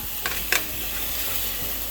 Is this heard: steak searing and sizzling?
yes